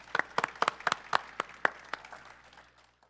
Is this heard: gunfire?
no